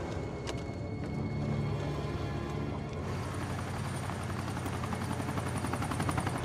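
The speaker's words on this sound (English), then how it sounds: "I think it's a chopper." A U.S. Army helicopter flies overhead, its rotor chop a steady distant thrum that grows fuller and more present partway through, with no talking over it.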